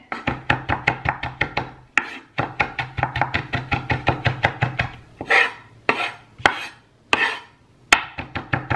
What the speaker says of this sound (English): we're just gonna chop up this rosemary as fine as we can get it